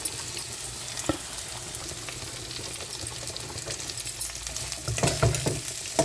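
Raw banana pieces fry in a pan with ginger garlic paste for a banana curry, giving a steady close sizzle with occasional stirring scrapes that grow slightly louder near the end.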